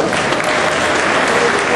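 An audience applauds at a StarCraft 2 competition, loud, dense, even clapping filling the whole short stretch without a break.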